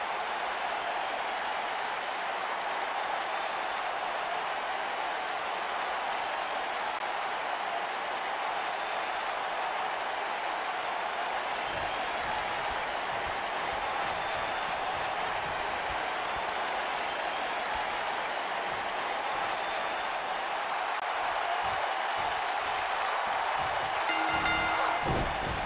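A large wrestling arena crowd applauds and cheers in a sustained, dense roar of clapping that continues unbroken and swells slightly toward the end.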